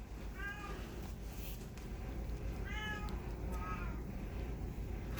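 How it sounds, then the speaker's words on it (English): A cat meows three times, faint and somewhat distant, over a constant low rumbling background. "Do you hear my cat in the background?"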